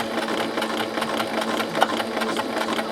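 A sewing machine stitching a pant hem runs fast and steady up close, a continuous rapid mechanical whir and needle chatter with no break and no voices.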